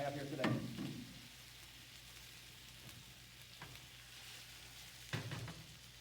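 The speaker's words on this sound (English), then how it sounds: "Into the pan, you can probably hear it popping pretty good." A steak sears in olive oil in a pan with a faint, steady sizzle, broken by a few louder pops and spatters near the start and end.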